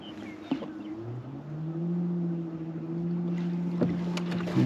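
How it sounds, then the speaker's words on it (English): An outboard fishing-boat motor starts and settles into a steady, close idle hum that rises slightly and holds, with a few small knocks and clicks on top. "Let's drop the motor. Turn it on."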